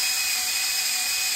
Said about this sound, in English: then you take your drill and you're going to scramble the egg inside